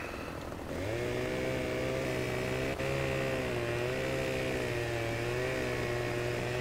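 A chainsaw in Farming Simulator 2015 cuts logs into small pieces. It starts at a low idle and quickly revs up to a steady, buzzing high whine that holds close and loud.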